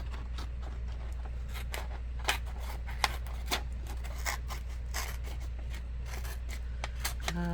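Repeated crisp snips of scissors cutting paper, close by, irregular clicks over a steady low hum, with no talking.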